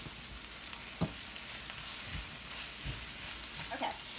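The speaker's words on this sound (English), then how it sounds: "My onions are cooking." Onions and peppers sauté in a pan with a quiet, steady sizzle and a few faint scrapes and taps of a stirring utensil.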